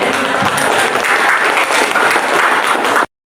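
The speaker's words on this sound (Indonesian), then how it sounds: "Ya, beri tepuk tangan untuk Mari." Classroom applause for a student after her answer, a dense burst of many hands clapping at close range for about three seconds before cutting off abruptly.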